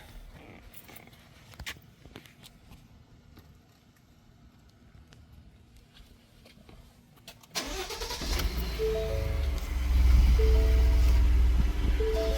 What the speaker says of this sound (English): disconnect it from the truck, and start the truck up and see